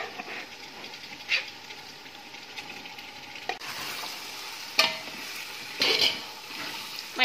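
Mutton pieces sauté in a pan for Ambur-style biryani, a steady close sizzle with periodic louder scrapes and stirring clatters as the meat is turned.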